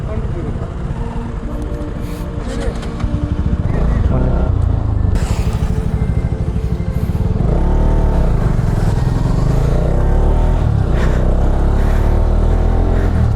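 A Bajaj RS200 and a KTM Duke 250 ride on the road to Nandi Hills near Bangalore in summer, their engines a loud, continuous droning roar that swells with revving, mixed with wind, while a person talks over it.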